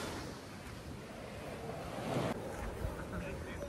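Midday surf washes steadily onto Om Beach at Gokarna, Karnataka, a continuous broad hiss of breaking waves mixed with wind buffeting the microphone.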